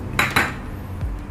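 Chunks of beetroot dropped into a blender jar for a smoothie, giving two sharp clattering knocks close together, followed by a softer thud a moment later, with no talk.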